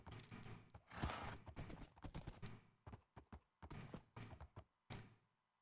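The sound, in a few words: horse hooves and neighing in video game Minecraft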